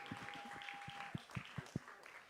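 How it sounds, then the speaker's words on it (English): Applause for a band at an industry showcase, scattered hand claps from a modest crowd, a few distinct louder claps standing out, fairly faint and brief. "And another round of applause for my amazing band."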